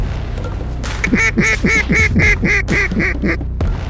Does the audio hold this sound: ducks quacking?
yes